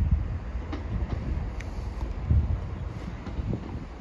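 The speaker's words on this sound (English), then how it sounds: "here we have a terminating Chiltern Railway service from Leamington Spa" Chiltern Railways unit 165018, a terminating service from Leamington Spa, pulls into a station with a steady low rumble. The rumble is moderately distant and mixed with gusting wind on the microphone.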